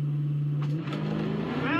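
A Dodge Challenger SRT Demon 170 launches on a drag strip run in Kansas, its engine note rising steadily as it accelerates, loud and close throughout.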